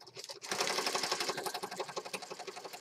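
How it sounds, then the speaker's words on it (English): Sewing machine with a built-in thread cutter, heard as a fast, rhythmic mechanical clatter that rises after a short click and keeps pulsing quietly at close range. "My sewing machine has the ability to cut the thread."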